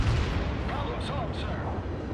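Battleship main guns fire in the World of Warships naval game, a dense, booming rumble of artillery that fills the whole stretch at high level.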